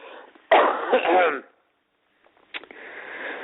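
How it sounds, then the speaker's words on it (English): A loud, harsh burst of coughing and throat clearing, then a silent pause, followed by another rough cough fading into murmuring noise. "The goddamn cough ruined that improv."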